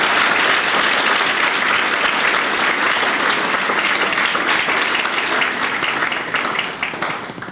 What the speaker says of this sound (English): So give these guys a nice round of applause.